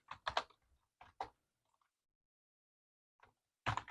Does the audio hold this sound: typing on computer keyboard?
yes